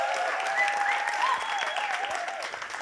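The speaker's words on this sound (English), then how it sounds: "I want to hear a big round of applause for Narcy" Audience clapping and cheering for a performer named Narcy at a hosted event in Dubai, a steady dense wave of applause with whistles and shouts over the crowd, holding loud throughout and easing slightly at the end.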